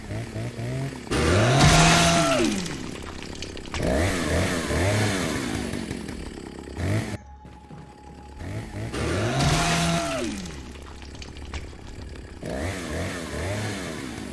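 A chainsaw engine in Resident Evil 4 Remake revs up and down in repeated surges, loud and steady, with brief drops between pulls and no speech.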